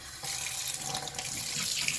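Cold water runs from a kitchen tap while pie dough is being made, a steady close-up rushing stream that starts a moment in and continues evenly without any talking.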